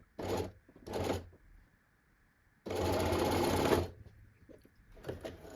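Sewing machine stitching fabric, running in two short bursts and then one longer steady whir, close and clear, with no talking.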